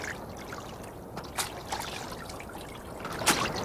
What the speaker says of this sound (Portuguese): Elias pegou o manto e bateu com ele na água